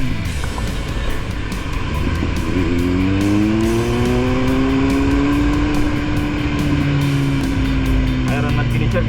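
A Kia Pride car drives steadily with a continuous engine hum and road noise, a rising and falling engine tone sweeping through the middle; people talk inside over it.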